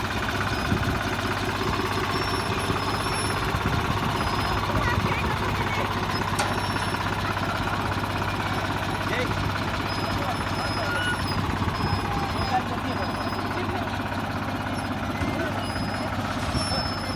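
A steady, low tractor engine drone in creeper gear runs throughout with a constant hum and rough chugging texture, moving very slowly while planting thyme.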